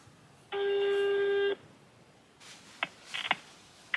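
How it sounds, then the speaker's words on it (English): A phone call being dialed, with a sustained one-second dialing tone followed by several short, close beeps of keypad presses. "Let's make this phone call."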